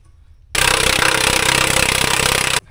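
Power tool snugging the lug nuts on a wheel after a flat tire: one steady, loud, harsh mechanical whir lasting about two seconds, starting and stopping abruptly.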